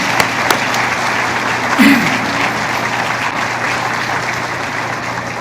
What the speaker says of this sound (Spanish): Yo creo que merece un aplauso el Señor.